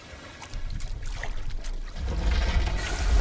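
Water churning and splashing as a player dives underwater in Call of Duty Advanced Warfare, a muffled wash that swells and grows louder toward the end, with no talking.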